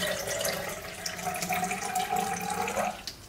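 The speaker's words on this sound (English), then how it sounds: "I used filtered tap water, only 400 something milliliters." Filtered tap water runs steadily from a faucet into a container while a black-and-white film developer is mixed at home, a continuous close splashing stream that rises slightly in pitch as the vessel fills.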